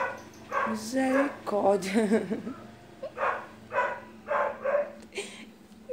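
A dog barks repeatedly in short bursts with some whimpering yips at a rural farmstead, fairly close, while someone speaks briefly over it.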